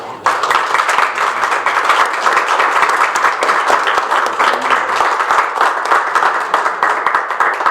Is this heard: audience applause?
yes